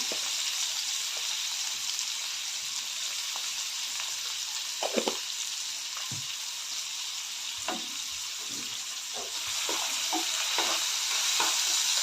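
Onion and tomato sauté in oil with salt for a cabbage and dal dish, making a soft, steady frying hiss with scattered faint clicks and scrapes from stirring.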